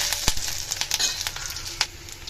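Curry leaves crackle and sizzle in hot oil in a pan while beerakaya fry is cooked, with sharp popping spits and a few stirring knocks over a steady hiss, close up and with no talking.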